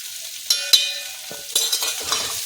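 Crushed chili is tipped into masala frying in a pan for dum aloo, giving a steady hiss of sizzling oil punctuated by a few sharp clinks and scrapes of a spoon stirring.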